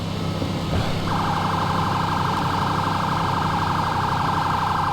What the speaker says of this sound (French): Comme vous pouvez le voir, là, l'ambulance arrive.